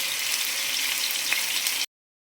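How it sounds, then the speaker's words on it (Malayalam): Chicken pieces sizzle steadily in hot oil in a pan, a close, even frying hiss that runs unbroken before cutting off abruptly. "ചിക്കൻ ഇങ്ങനെ നന്നായിട്ട് വറുത്തെടുക്കുക."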